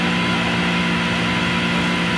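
A car idles loudly in the racing game Forza Horizon 5. Its engine gives off a steady, rough, throbbing drone that stays constant and close with no revving and no voices.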